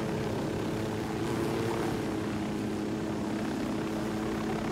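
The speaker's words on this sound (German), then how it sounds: "zwei dicke Helikopter haben wir auch" Two large helicopters idle at an enemy base in the video game Ghost Recon Wildlands, giving a steady, droning rotor and engine hum that stays even and fairly faint throughout, with no voices.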